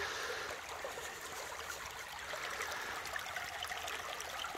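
Creek water flows and trickles steadily during gold panning outdoors, a close, continuous splashing wash with no voices.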